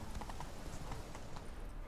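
Horse hooves clip-clopping in a fast, steady galloping rhythm in The Witcher 3 video game, loud and continuous with no talk.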